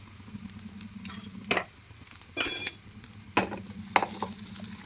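Pori adde flatbread sizzling in a hot pan as it is flipped, a soft constant fry broken by a few short scraping and clinking bursts from the turning.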